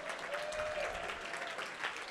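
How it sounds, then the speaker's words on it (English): Sustained applause from an audience at a tech community meetup, dense steady clapping that stays even and fairly close throughout. "Let's say a big, big round of applause"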